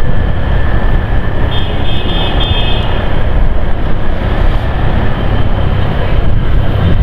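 A passing train makes a loud, continuous rumbling roar at close range, with a faint high whine running through it for several seconds.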